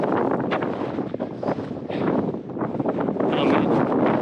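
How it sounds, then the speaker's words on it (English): Strong, cold wind blasts across an open microphone while hiking in Joshua Tree National Park during an atmospheric river storm, a loud continuous roar with gusty surges and buffeting throughout. "this wind has just been blasting me in the face most of the day"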